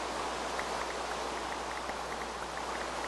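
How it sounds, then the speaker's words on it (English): Rain falling in the video game Minecraft, a faint, even hiss of steady rainfall that continues unchanged throughout, with no other sounds. "And it's raining."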